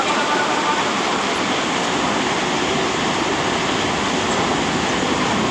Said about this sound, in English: The flow of water is rather strong